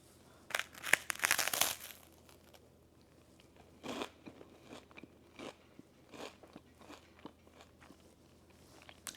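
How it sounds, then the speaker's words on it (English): Crisp bites and crunches of a caramel rice cake topped with cottage cheese, a loud burst of crunching up front followed by softer scattered chewing crackles, close and quiet otherwise. "The nice crunch of the caramel rice cake along with the cooling nice cottage cheese."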